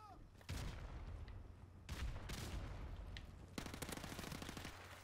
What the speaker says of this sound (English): I'll wait for that guy to stop shooting